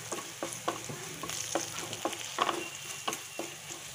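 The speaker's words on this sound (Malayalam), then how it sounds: "ഒരു അര ടീസ്പൂൺ മഞ്ഞപ്പൊടിയും കൂടെ ചേർത്ത് നന്നായിട്ടൊന്ന് ഇളക്കിയെടുക്കാം." Chili and turmeric powder stirred in hot oil in a pan for beetroot pickle: a steady sizzle with repeated scraping strokes of a spoon, close and fairly loud, with no talking.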